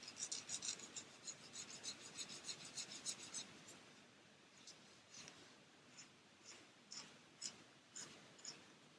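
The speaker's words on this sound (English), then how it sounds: "we just need to take our emery board and just sand that nice and flat" The coarse side of an emery board sands a leftover nub on a small plastic Airfix 1/72 model part, giving quick rhythmic rasping strokes that start as a dense burst and then continue as sparser, quieter rubs, close and faint.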